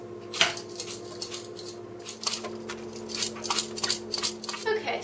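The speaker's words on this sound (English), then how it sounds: "now I'm going to peel my apples and then I'm going to cube them" Apples are peeled by hand, with a run of short, crisp scraping strokes in an irregular rhythm over a low, steady background hum, fairly close and moderately loud.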